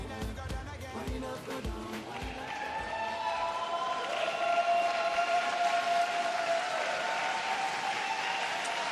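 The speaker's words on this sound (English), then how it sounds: "make applause to European champions!" Broad wash of crowd applause and cheering at a figure skating championship that swells and holds, with a few sharp claps early and a high tone rising through it.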